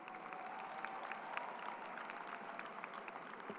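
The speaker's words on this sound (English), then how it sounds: "Graduates, give those families a round of applause" Sustained applause from a large crowd at a December graduation commencement ceremony, a dense steady patter of clapping heard at a distance.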